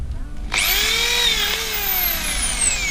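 A power drill spins up with a sharp whine that rises and holds steady, loud and close, continuing without a break, while making a metal tray rat trap.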